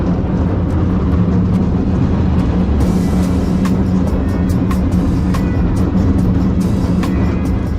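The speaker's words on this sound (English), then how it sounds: "feeling every rattle as the cable car climbs those steep hills" San Francisco cable car climbing a steep hill, a steady loud rumble with rattling, clattering transients and metallic clicks from about halfway through, no talk.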